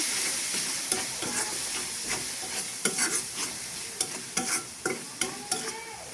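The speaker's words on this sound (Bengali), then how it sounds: "মশলাগুলো ভালো করে নেড়ে চেড়ে" Ground coriander and turmeric sizzle and fry in a pan while a utensil stirs them, giving a steady hiss broken by a series of sharp scraping clicks toward the end, close and alone.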